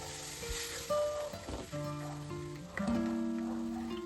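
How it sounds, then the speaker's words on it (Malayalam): Mango puree is stirred into a pan of mango rasam curry, giving soft sizzling and occasional stirring scrapes against a low, steady background with some tonal hum. "മാംഗോ പ്യൂരിയും കൂടെ ചേർത്ത് കൊടുത്ത് നന്നായിട്ടൊന്ന് ഇളക്കി യോജിപ്പിക്കുക"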